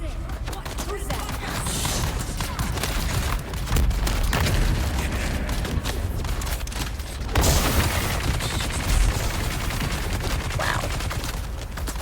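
Gunfire in the video game Dune Awakening, with rapid bursts of shots cracking continuously from a gunner and building into a dense fusillade that is briefly louder midway. A voice exclaims once over the barrage.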